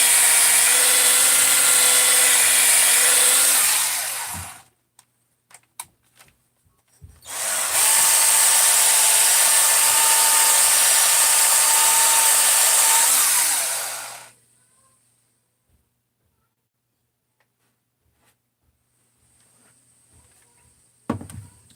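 Power tool fitted with a Scotch-Brite pad works the ports of a Husqvarna 394xp chainsaw cylinder, running in two loud, steady bursts of about five and seven seconds separated by a short pause, then falling silent.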